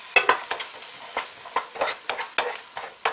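Celery and potatoes are stir-fried in oil in a pan: rhythmic scraping strokes of a utensil over a steady light sizzle, heard up close with no talking.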